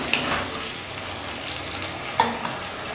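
Bottle gourd shukto with turmeric fries in a pan as it is stirred: a continuous close sizzle broken by a couple of sharp utensil clinks and scrapes.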